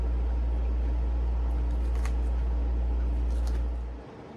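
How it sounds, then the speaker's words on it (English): A room air conditioner drones loudly and steadily with a deep hum and airy hiss, then winds down and cuts off near the end. "my air conditioner. I am so sorry about the noise."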